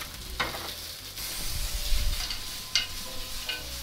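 Foie gras frying in a pan after being turned over on lowered heat: a steady close sizzle with a couple of brief clinks or stirring knocks, and no talking.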